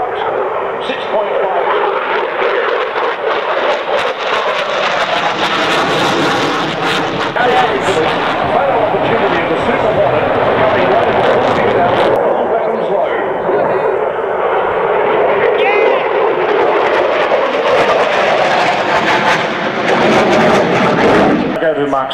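A McDonnell Douglas F-15 Eagle jet roars steadily at an airshow in Avalon, Australia, loud and continuous for the whole stretch with a rough, rumbling texture and no break.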